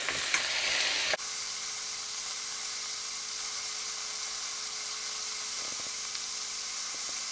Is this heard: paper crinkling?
no